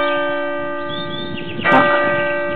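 A church bell tolling outdoors, its rich sustained ringing filling the air, with a fresh strike landing partway through over the lingering hum of earlier strokes.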